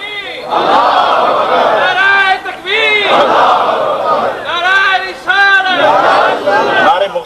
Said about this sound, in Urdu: نعرے مختصر کریں بھائی